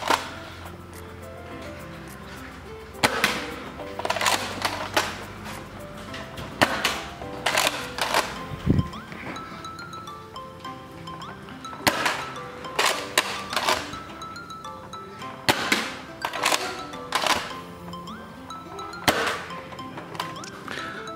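A Nerf Elite Delta Trooper toy blaster fires foam darts one after another: loud, close, sharp pops spaced a second or two apart, with mechanical clacks of the priming slide between shots and no talking.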